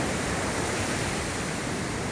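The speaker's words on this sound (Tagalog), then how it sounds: "Grabing alon yan." A dense, roaring wash of crashing surf fills the whole clip, loud and continuous like heavy storm waves breaking nearby, during Typhoon Kristine in the Philippines.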